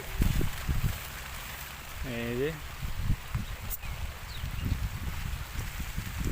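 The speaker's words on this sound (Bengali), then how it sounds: "বৃষ্টি হয়ে বৃষ্টি শুরু হয়ে গেছে" Rain falls on a fish pond outdoors as a steady, close patter of drops hitting the water and surroundings, with rustling and a brief tonal call partway through.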